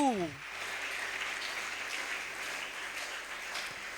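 Congregation in a church applauding at an Easter service: dense, steady clapping that carries on evenly for the whole stretch, starting out from under a trailing sung or spoken voice.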